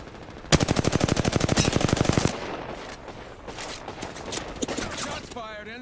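Automatic weapon fire in Apex Legends, a fast, loud burst of evenly spaced shots lasting about two seconds, followed by scattered softer shots and game effects.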